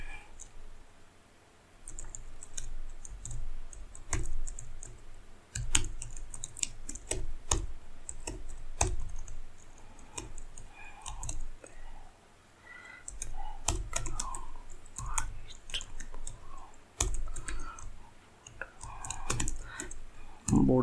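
Keys clatter on a computer keyboard as CSS code is typed, irregular bursts of clicks with short pauses, fairly close and steady throughout, with no speech.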